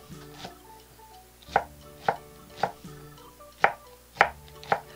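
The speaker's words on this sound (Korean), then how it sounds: "파 써는 소리는 조금 잘 써는 소리 같이 들리지 않나요?" Kitchen knife slicing green onions on a cutting board, about eight crisp, close chops at a fairly even pace, with a quiet background between cuts.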